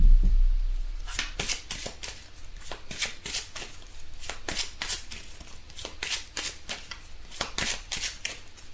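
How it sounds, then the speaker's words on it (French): Tarot cards are shuffled and drawn by hand in a crisp run of papery riffles and slaps, close and fairly loud, repeating in quick irregular bursts with no talking. "je vais tirer 3 cartes pour vous"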